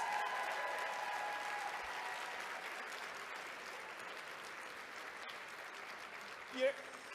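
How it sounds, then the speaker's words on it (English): Audience applause at an ACLU lunch event, a steady wash of clapping that fades gradually over several seconds, fairly faint and distant. "Can we do one more round of applause for that performance?"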